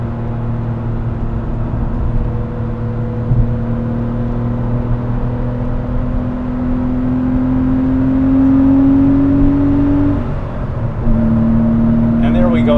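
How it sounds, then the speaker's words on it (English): A 1997 Porsche 993 with its air-cooled engine pulls hard in fourth gear at around 100 mph, a loud, steady mechanical drone climbing in pitch before a brief dip and recovery near the end. "And there we go again into like fourth gear, doing 100 miles an hour again, and you can just listen to the sound of the car."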